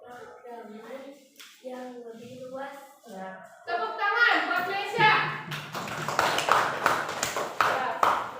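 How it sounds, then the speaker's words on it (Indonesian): Classroom applause for a student: after someone speaks, a burst of many hands clapping rises and continues with dense, irregular claps. "Tepuk tangan buat Mesya."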